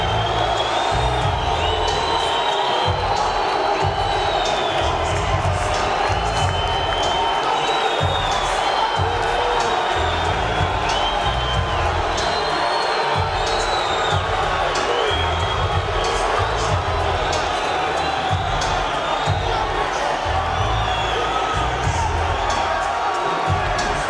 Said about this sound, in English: That crowd reaction will fuel him even more tonight.